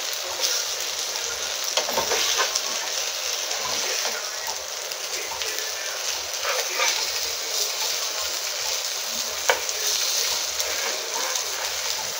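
Fish frying in oil in a pan while a masala fish fry is cooked, a steady close hiss and sizzle with scattered pops running unbroken throughout.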